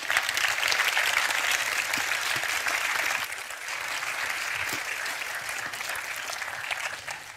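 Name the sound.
audience applause for Layla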